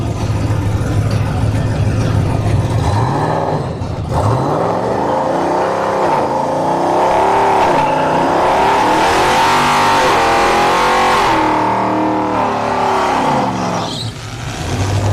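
Drag racing cars at a motorsports park accelerate hard down the strip, engines revving loud and continuous with rising gear-change sweeps and a touch of tire squeal, the roar filling the whole stretch.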